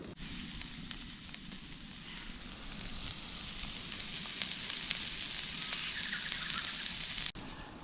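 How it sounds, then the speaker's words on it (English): Food sizzles and fries steadily in a small pan at a lakeside campground, a close, continuous crackle with occasional pops and no talking. "I'll throw all that in there and give that a cook until it's browned a little bit"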